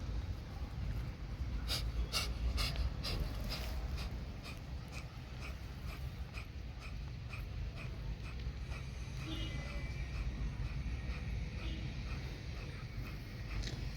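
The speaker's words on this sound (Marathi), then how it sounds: "उजवी नाशिका बंद करायची डाव्याने श्वास चालवायचे" Kapalbhati breathing through the left nostril with the right closed: a rapid series of short, sharp forceful exhalation strokes, clearest early on and fainter afterwards, close and soft.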